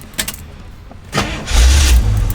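A 1973 Camaro engine cranks briefly and catches, settling into a loud, close, rumbling idle with no voices.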